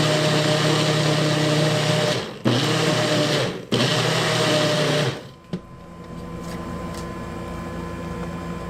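A NutriBullet blender whirs loudly and steadily while blending a smoothie, its motor briefly cutting out twice before stopping, followed by a quieter hum and faint clicks.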